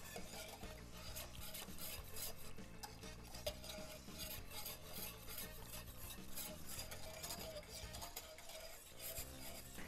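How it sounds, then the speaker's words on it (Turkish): Continuous close stirring of a pudding mixture in a pot on the stove, a spoon scraping and swishing rhythmically against the pot while it heats toward a boil. "Kaynayana kadar hiç bırakmadan karıştırıyoruz."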